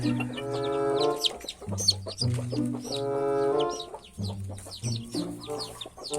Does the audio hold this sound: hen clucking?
yes